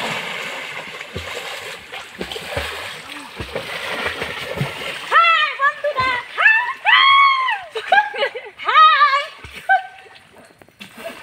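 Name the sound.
splashing while diving into a pond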